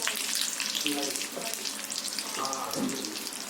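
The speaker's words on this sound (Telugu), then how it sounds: "ఇందులో కరేపాకు ఇంగువ వేసుకుంటున్నాను" Curry leaves and asafoetida hit hot oil in a pan, crackling and sizzling steadily up close for a few seconds.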